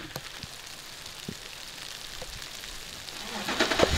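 Steady rain falls outdoors as a soft, continuous patter, with a few louder drops and a brief rise in intensity near the end.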